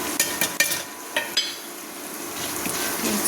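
Churmuri mixture is stirred with salt in a bowl, giving a steady, close scraping and rustling with a few sharp clinks near the start. No voices are heard.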